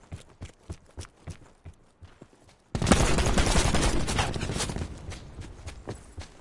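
Burst of video game gunfire in a solo battle royale run, a dense, loud fusillade that erupts after a few seconds of quieter footstep-like taps and continues steadily to the end.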